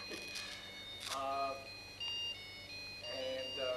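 A phone rings several times at a gathering on a walk through Port Moody, Canada, giving short, faint electronic tone bursts under nearby speech and background murmur.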